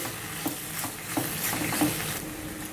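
Masala macaroni pasta, seasoned with pepper powder and chopped coriander, being stirred in a hot pan, giving a low sizzle with a few soft scraping stirs, close and moderately quiet.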